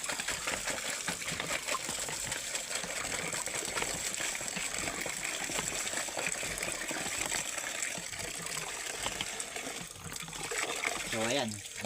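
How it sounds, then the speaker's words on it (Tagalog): Water gushes steadily from a hand pump as chilies are rinsed under the stream, a continuous splashing wash that stays loud and close, with a voice at times beneath it. "Huhugasan lang siya sa poso. Hugasan lang namin ng tubig."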